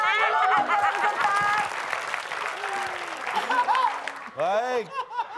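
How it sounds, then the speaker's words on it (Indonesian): Studio audience applauding the contestants on an Indonesian TV quiz show, a steady dense clapping that holds for several seconds, with a host's voice and tonal music cues rising over it near the end. "kasih tepuk tangan dulu buat para peserta"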